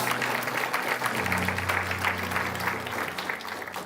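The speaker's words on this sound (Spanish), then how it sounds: "Den un fuerte aplauso a Cristo." A church congregation applauds during a Spanish-language service, a sustained wash of clapping over a low steady tone, fairly even in loudness throughout.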